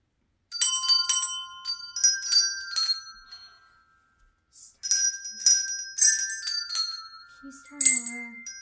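A family plays Christmas handbells in turn, bright ringing bell tones sounding in two short phrases separated by a brief pause, with a lower sustained tone at the end and faint voices in the room.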